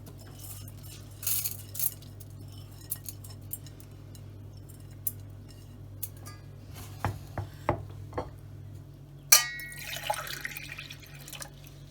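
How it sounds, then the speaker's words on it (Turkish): Dry buckwheat grains poured and tipped into a small pot in a kitchen, with scattered light taps and clicks and a brief rattling rush of grains, over a steady low hum. "Küçük bir tencereye alalım buğdayımızı."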